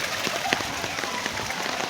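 Steady outdoor rain falling among trees and flowers, a dense, even patter that holds at a moderate level throughout with no break.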